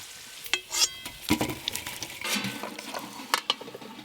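Food for a Hyderabadi-style biryani fries in hot oil, crackling and spitting with sharp bursts and scraping stirs against the pot, close and lively, no voices.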